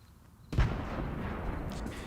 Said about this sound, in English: Let's see that explosion.